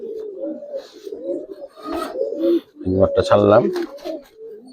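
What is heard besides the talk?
silver jumper pigeon cooing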